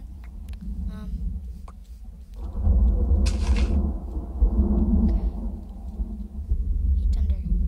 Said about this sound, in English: Thunder, can you please be quiet?